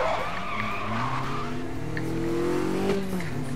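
Car engine revving and tires skidding in the racing video game Need for Speed Most Wanted, a continuous loud screech with rising and falling engine tones throughout.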